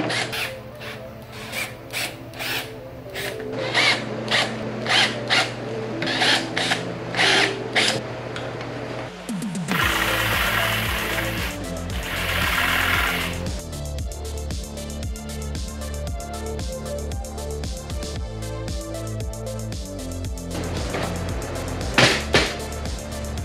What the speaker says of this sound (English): So I'll drill the 2 holes and use the jigsaw to cut the slot between them.